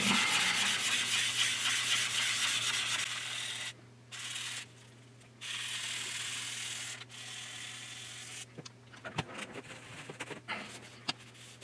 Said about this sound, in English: with this, I'm going with a circular motion for my sanding